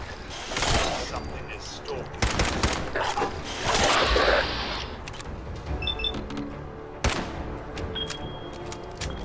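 A frantic Fallout 4 firefight: loud repeated gunshots crack and burst in clusters, with shouting voices overlapping the fire and a dense noisy blast mid-clip.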